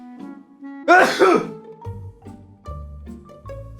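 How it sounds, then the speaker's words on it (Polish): A single sharp sneeze, loud and close, bursting out amid quiet background with faint tones around it. "kichnięcie mamy z głowy"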